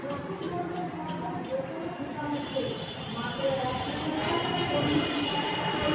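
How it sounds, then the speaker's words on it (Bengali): A train passes with its wheels squealing, a sustained high metallic screech over a rumbling roll that grows louder and closer toward the end, near a rail line under construction, in light drizzle. "এই হচ্ছে আমাদের ট্রেন।"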